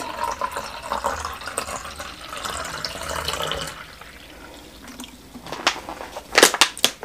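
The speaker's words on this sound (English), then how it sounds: "I have my water here. I am going to pour it out." Water poured out at a table before a meal, a close liquid splashing and trickling that comes in uneven bursts, quieter in the middle and ending with a few sharper splashes and knocks.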